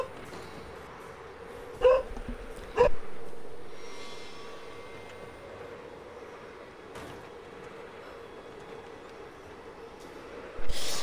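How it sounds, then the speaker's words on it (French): A pet dog barks indoors in a home, with a few sharp, isolated barks spaced across a quiet background and no speech. "Excusez-moi pour mon chien"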